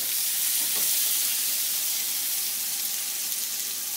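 Boiled potato and kohlrabi frying in oil in a wok while being stirred, a steady loud sizzle with hissing steam running throughout, close by and with no talking.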